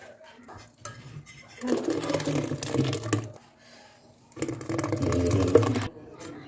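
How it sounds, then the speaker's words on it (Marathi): A kitchen mixer grinder grinding soaked wheat runs in two loud, close whirring bursts, each about two seconds long, with a quiet pause between them. "सगळे गहू मी असेच वाटून घेणार आहे"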